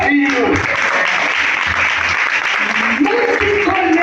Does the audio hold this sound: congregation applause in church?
yes